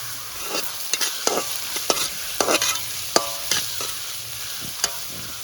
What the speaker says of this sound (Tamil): அடுத்தது கறி மிளகாயை போடுவோம்.